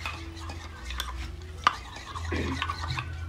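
A spoon stirring a fruit salad mixture in a bowl, a close, soft continuous scraping with one sharp clink of utensil against the dish.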